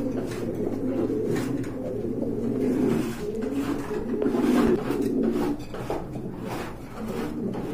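A group of high-quality pigeons kept for sale coo continuously, a close, throbbing low warble layered from several birds with occasional wooden knocks and shuffles.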